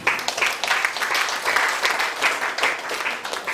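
Audience applause at a community gathering with Muslim community members present, a steady, moderately loud sheet of many hands clapping throughout with no voices over it.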